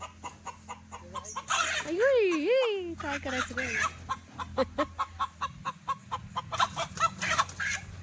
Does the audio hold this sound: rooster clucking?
yes